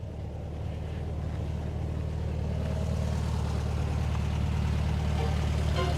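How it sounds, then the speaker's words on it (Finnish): A 1972 Volkswagen Beetle 1300, freshly inspected, runs with a steady, low, droning engine hum that holds evenly for several seconds with no talking over it. "Vähän outoa, kun auto pitää ääntä."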